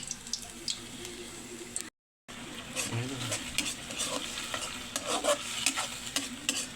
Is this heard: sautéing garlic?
yes